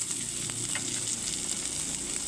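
Ginger paste hits hot oil in a kadai with lightly browned onions, giving a continuous dense sizzle and faint stirring ticks, close and even throughout.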